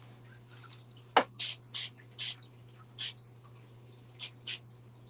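Short bursts of spray hiss against a model narrow gauge train's side, about eight quick puffs spaced unevenly over a low steady hum, fairly faint and close.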